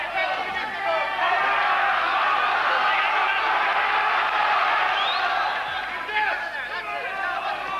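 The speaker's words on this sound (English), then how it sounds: "crowd cheers" Boxing arena crowd at the Paul Hodkinson vs Farid Benredjeb fight, a dense, steady roar of cheering and chatter sustained throughout, with occasional whoops rising out of the mass of voices.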